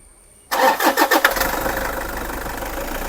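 A 2014 Toyota Innova V diesel MPV cranks briefly after a moment of quiet, catches with a few uneven pulses, then settles into a steady, close idle, with no voices over it.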